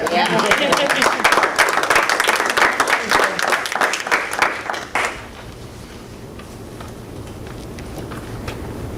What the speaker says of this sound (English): I want to clap for that